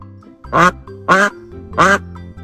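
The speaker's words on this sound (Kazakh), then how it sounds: "Тыңдайықшы, үйрек қандай дыбыс шығарады?" Three loud, evenly spaced quacks from a duck ring out one after another, close and clear over a quiet background.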